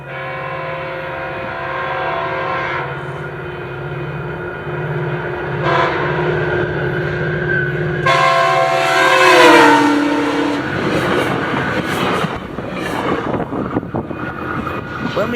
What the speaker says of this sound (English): a northbound frontrunner with 20 leading comes flying through